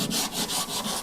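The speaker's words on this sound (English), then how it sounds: "you can see that it's not letting me through until I get these high spots down when you're sanding it" Hand sanding body filler on a rust repair of a Ford F-250 rocker panel, a close, rhythmic rasping stroke repeated back and forth about five times in a second, with no talk.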